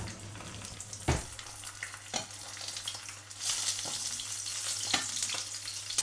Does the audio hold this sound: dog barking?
no